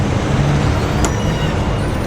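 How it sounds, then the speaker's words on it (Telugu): A bus on a Philippine road near Tagaytay gives a loud, continuous rumble of engine and road noise close by, steady throughout without clear pauses. "ఈ పెద్ద బిల్డింగ్ ఎదురు ఇక్కడ బస్సు అయితే ఆగిద్దంట"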